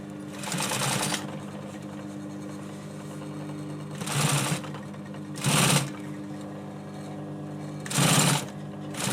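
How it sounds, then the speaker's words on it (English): A sewing machine stitches fabric for a chair arm cover in four short, loud mechanical bursts of rapid needle chatter, separated by quiet pauses. "we come in and start sewing"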